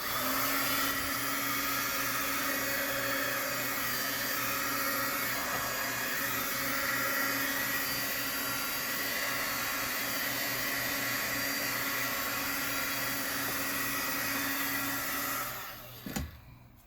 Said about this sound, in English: And I'm going to do this with the heat tool.